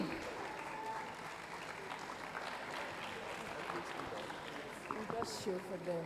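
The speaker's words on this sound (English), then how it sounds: "Come on, let's give them a round of applause." An audience at a tech convention applauds a team called to the stage, a continuous crowd clapping with voices mixed in, moderately distant and steady for several seconds.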